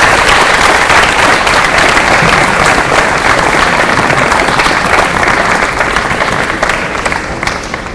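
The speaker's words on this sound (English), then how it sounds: "Please give her a warm round of applause." An audience at a college student-athlete appreciation night breaks into sustained applause, a dense wash of clapping that holds steady and loud for the whole stretch and only eases slightly near the end.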